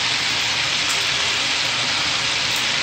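Chicken and garlic ginger paste fry in a karahi with a loud, dense, continuous sizzle that stays steady and close, with no voices.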